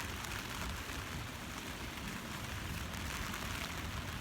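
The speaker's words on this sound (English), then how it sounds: "Guys, it's raining." Rain falls steadily on an outdoor fort, a dense, even hiss of drops that is close and continuous with no pauses and no voices.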